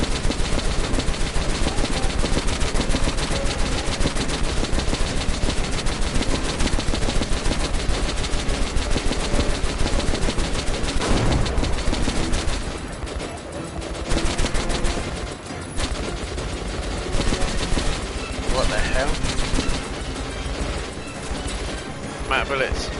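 Sustained automatic gunfire in Metro Last Light Redux rattles loudly and nearly nonstop, thinning into short broken bursts and gaps in the second half, with talk mixed in at points.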